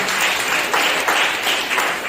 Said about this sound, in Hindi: जोरदार ताली बजाते।